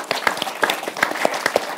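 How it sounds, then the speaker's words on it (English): An audience at a panel discussion on nature and legal rights applauds briefly, a loose burst of many scattered claps at moderate distance with no voices. "I think this also deserves a round of applause."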